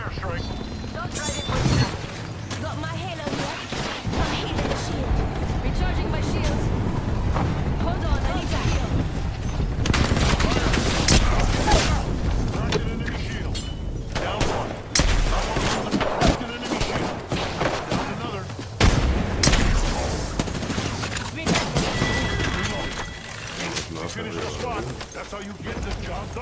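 Fortnite gunfire and airstrike explosions crackle and thump in dense bursts, heavy booms mixing with rapid shots and mechanical whirring, while a player talks over the action almost continuously.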